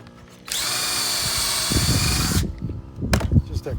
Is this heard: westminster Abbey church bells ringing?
no